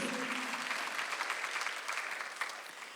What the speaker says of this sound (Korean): 박수를 치며 하나님께 영광을